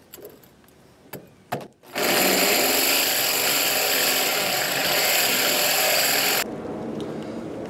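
A corded drill without hammer mode drives a cheap hole saw into a ferrocement masonry wall. A few clunks come first, then a loud, gritty, grinding whir runs for several seconds and drops to a lower steady hum.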